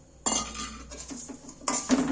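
Semolina and sugar stirred together in a pan for suji halwa, two bursts of metal spoon scraping and clinking against the pan with a brief pause between, close and moderately loud.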